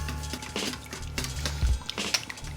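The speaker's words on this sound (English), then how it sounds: "let's get all this mixed in there" A spoon stirs wing sauce with brown sugar in a pot or bowl, giving a few clinks and scrapes of metal against the dish at an uneven pace, close by and with no talking.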